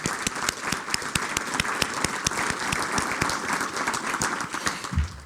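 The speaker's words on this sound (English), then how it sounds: "Can we give them a round of applause for being here today?" A room full of attendees at the Harrisburg Regional Chamber & CREDC Leadership Forum applaud in a sustained, even patter of many hands, moderately loud and continuous, easing off near the end.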